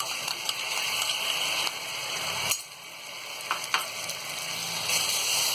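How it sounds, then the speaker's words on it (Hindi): Ginger garlic paste sizzles with golden-brown onions in a pan, a steady close frying hiss with a few soft clicks and stirring scrapes, no talking. "अब इसमें हम ये अदरक और लहसुन का पेस्ट डाल देंगे।"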